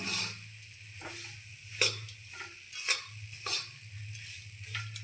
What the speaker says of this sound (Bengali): ভালো করে মিশিয়ে নেব এইভাবে